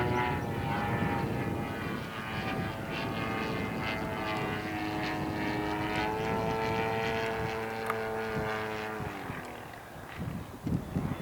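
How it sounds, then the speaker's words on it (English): A Bates Hellcat model airplane drones steadily on its propeller engine, loud and sustained with shifting pitch as it comes in for a heavy crosswind landing, then tails off near the end. "I've never done a heavy crosswind landing with this plane."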